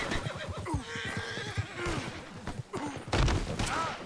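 A skittish horse in the video game Red Dead Redemption 2 neighs and whinnies several times, loud and close, over clip-clopping hooves and a few thumps near the end.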